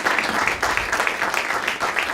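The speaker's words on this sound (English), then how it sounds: "If we can give a round of applause to our panelists" Audience applauding panelists at the end of a prostate cancer screening discussion in Congress, with continuous, moderately loud clapping throughout.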